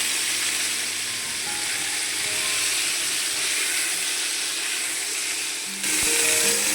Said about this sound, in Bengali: কড়াই তেল গরম হয়ে গেছে, আলুটা আমি দিয়ে দিলাম